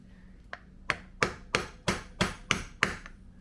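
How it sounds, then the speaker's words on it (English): Sharp metallic taps strike the locking tabs on a Suzuki DR650 cam gear, about eight evenly spaced blows that grow louder, close and alone with no talk. "to take this cam off, I need to bend these little tabs back"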